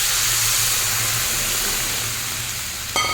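Coconut milk comes to a boil in a pan with a steady, close hiss and bubbling simmer, carrying a low rumble throughout before a brief sharper clink near the end.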